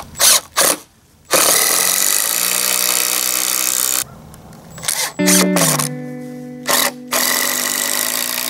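Number 14 wood screws driven with a power drill while preparing a wooden boat frame: short bursts of whirring motor and a longer sustained run that strains and drops in pitch as each screw bites into the wood, up close.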